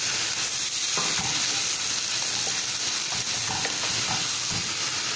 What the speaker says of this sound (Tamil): முள்ளங்கி நல்லா வதங்கணும்.